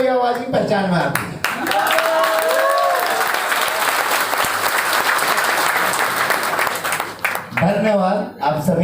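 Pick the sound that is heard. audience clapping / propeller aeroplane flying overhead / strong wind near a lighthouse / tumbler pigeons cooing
audience clapping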